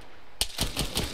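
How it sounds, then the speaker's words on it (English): A weapon is reloaded in ARMA 3, a quick run of sharp metallic clicks and clacks in an even rhythm, close and clear, with no talk. "Reloading."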